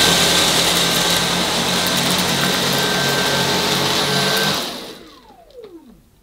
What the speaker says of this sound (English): I'm going to put it on maximum and just pull the machine back over the clean path and see if I can remove any more of the green sand